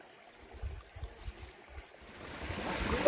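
The Balay River flowing on Mt. Namandiraan, a faint steady rush of water with soft rumbling thuds, growing louder toward the end.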